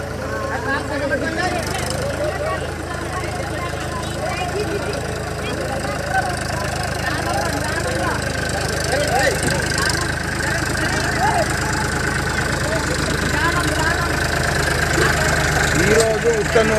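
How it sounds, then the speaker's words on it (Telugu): Tractor engine idling steadily after stalling midway through a flowing stream at Uttanur, a continuous low rumble throughout with people talking over it. "ట్రాక్టర్"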